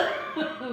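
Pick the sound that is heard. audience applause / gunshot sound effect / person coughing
person coughing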